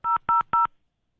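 Three short telephone keypad tones beep in an even, quick rhythm, loud and close with no talk over them.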